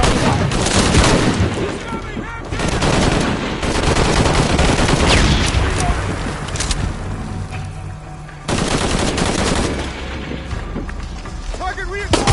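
Dense, sustained gunfire and automatic bursts fill a Tomb Raider firefight with booming shots, loud and nearly unbroken. Soldiers shout orders over the shooting.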